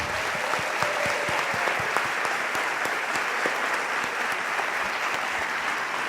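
Sustained applause from an audience at a short-story competition award ceremony, steady dense clapping throughout, moderately distant with no voices over it.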